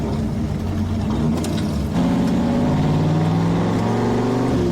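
A 1988 Ford with a swapped 5.0 V8 runs steadily at close range, its low engine drone rising slightly in pitch and loudness about halfway through as it pulls harder.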